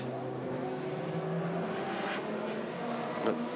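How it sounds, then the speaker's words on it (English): A race car at the Le Mans 24 Hours passes a car stopped on track, its engine a distant, steady drone with faint rising passes and a brief swell near the end, all at low level. "The car passing him"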